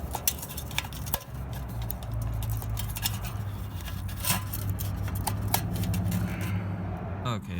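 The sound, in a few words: shears cutting go kart pull-start rope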